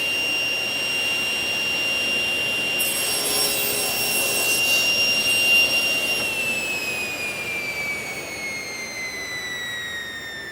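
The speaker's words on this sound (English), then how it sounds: "plug the saw in, I'll make the cut" A table saw cuts through a wooden workpiece pushed against a guide block, a steady high whine from the spinning blade rising into a louder, rougher roar midway, then dropping in pitch as the blade spins down.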